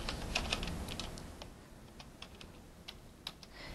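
Computer keyboard being typed on while entering numbers into a spreadsheet, a quick burst of close clicky keystrokes followed by sparser, irregular taps.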